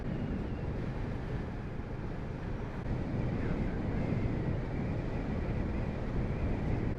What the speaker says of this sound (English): Windy as.